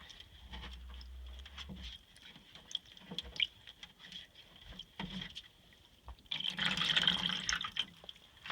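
Dandelion-dyed yarn being washed in water: quiet drips and light patter, then a louder burst of sloshing and splashing near the end, with no talking.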